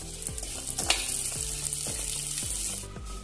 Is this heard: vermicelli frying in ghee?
yes